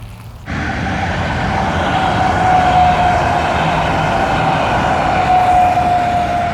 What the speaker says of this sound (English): Oh wait, there's another train coming